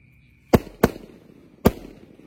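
Three sharp firework launch bangs from a roman candle launcher at night, two close together then a third after a short pause, loud and crisp against a quiet background.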